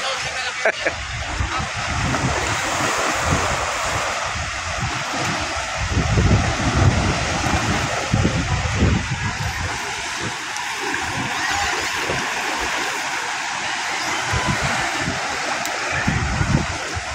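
Big waves pound the shore of Manila Bay under strong, gusting wind, a continuous loud roar of surf and buffeting air with heavier surges throughout.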